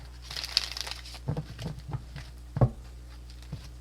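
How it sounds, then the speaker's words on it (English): Soft papery patters and crinkly slaps of tarot cards being shuffled, a few quick bursts spaced irregularly, close and fairly quiet. "Sorry, I shuffle to concentrate sometimes."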